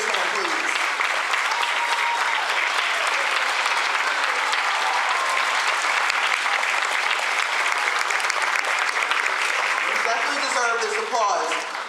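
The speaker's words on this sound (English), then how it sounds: "Deserve this applause." Sustained applause from a seated audience at a middle school National Junior Honor Society ceremony honoring sixth graders, a dense even clapping held steady and loud throughout before tapering at the end, with a few voices mixed in.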